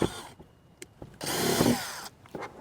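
A power drill with a Forstner or step drill bit whirs in short bursts and then one longer run as it bores into material, with clicks and knocks between.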